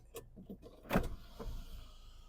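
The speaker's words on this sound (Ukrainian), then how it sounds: "Люк у нас працює" The electric sunroof of a 2014 Hyundai ix35 diesel 4x4 runs with a quiet motor whine and mechanical clicks, a short close burst in the middle then fading.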